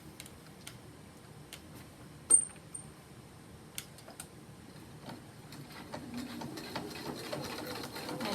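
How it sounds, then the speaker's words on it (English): A sewing machine stitches along a folded seam on a fabric Olsen mask: quiet, sparse clicks give way to a faint, steadier whirring, in a hushed room with no talking. "I'm just going to sew right along this line right here"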